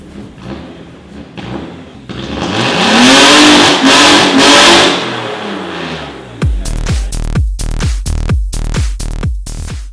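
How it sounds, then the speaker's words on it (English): A Japanese car revs hard on a hoist with a newly fitted large exhaust, the engine climbing and falling through a loud rising roar before settling into a deep, rhythmic lumpy idle with repeated heavy exhaust pulses. "The exhaust is on, so it's time to see what it sounds like."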